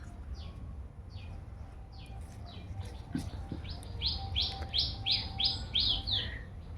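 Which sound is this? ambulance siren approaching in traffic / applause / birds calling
birds calling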